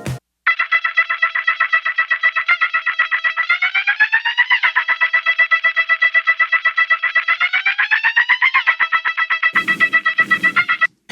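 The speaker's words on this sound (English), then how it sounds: "I have a kind of percussive guitar like thing" A percussive, guitar-like synth part runs through an auto filter and pans from left to right. A rapid, evenly pulsing stream of buzzy notes has a sweeping tone, with a few low thumps near the end.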